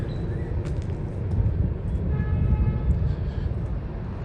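A CSX freight train rumbles past close by with a heavy, continuous low roar and clatter of rail cars, and faint squeals ride on top throughout.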